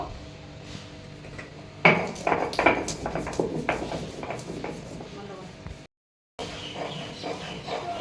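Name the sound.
grinding garam masala by hand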